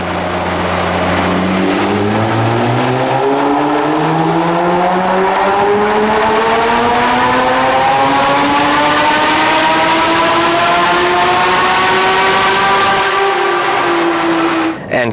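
Porsche GT4 with a tuned 4.2-litre engine, manual gearbox, making a full dyno pull: loud, continuous rising engine howl climbing steadily through the revs for about thirteen seconds, then cutting off abruptly at the top.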